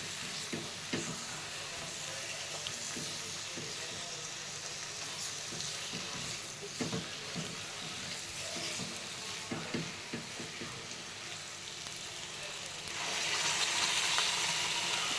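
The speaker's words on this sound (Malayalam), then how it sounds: "നമ്മൾ അരച്ച് വെച്ചിരിക്കുന്ന അരപ്പ് ഇതിലേക്ക് ചേർത്ത് നന്നായി ഇളക്കി കൊടുക്കാം." Ground masala paste being stirred into roasted paneer cubes in a hot pan, a dense, even sizzle with repeated scraping stirs, growing a little louder near the end, no voices.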